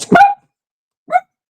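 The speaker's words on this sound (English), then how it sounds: "you don't need to bark at nobody." A dog gives two short barks, the first a loud double bark and the second a single quieter bark about a second later, with silence between.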